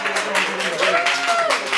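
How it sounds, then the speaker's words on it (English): An audience applauds a newly matched couple at a singles event, a steady wash of clapping from a modest crowd with voices mixed in. "Give a round of applause"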